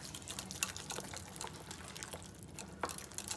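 A whisk stirring yogurt in a bowl while a celery salad is being made, with faint soft wet clicks and swishes in an irregular rhythm against a quiet room.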